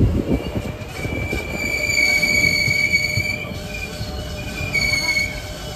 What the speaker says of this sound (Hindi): ये रही वो ट्रेन जो संगलदान रेलवे स्टेशन से बारामूला की ओर जा रही है।